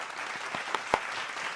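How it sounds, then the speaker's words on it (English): Applause from one person clapping to open a livestream in a basement workshop, a brief burst of soft, fairly close claps with a couple of sharper hits, no talk. "Clapping for the start of the stream."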